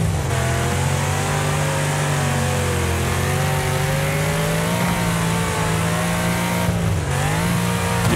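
A car engine in the demolition-derby racing game Wreckfest revs hard and steady, loud and close, with pitch rising and dipping as it accelerates, plus a brief drop near the end and tire noise underneath.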